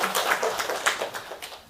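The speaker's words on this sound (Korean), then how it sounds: "박수 한번 합시다. 일주일 동안 준비해 박수." Church congregation clapping together during a Bible study gathering, a brisk scattered patter of many hands with a few sharper individual claps, fading slightly toward the end.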